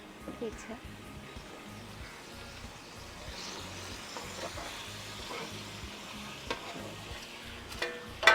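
Gram flour roasting in ghee on a low flame for mohanthal, with steady soft sizzling and stirring scrapes throughout while a person talks over it.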